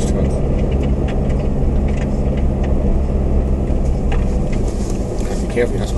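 A Toyota truck fitted with snow chains drives on a snowy mountain road, its loud, steady engine rumble filling the cab continuously with a dense low-frequency drone.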